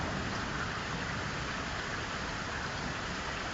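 Torrential rain shower pounding down on a public garden during a thunderstorm, a dense, steady, loud hiss of downpour filling the whole stretch without letup.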